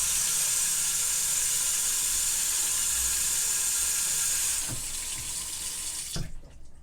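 A kitchen sink faucet runs steadily into a freshly cleaned drain with a loud, even rush of water, then shuts off near the end, leaving a couple of faint clunks and quiet.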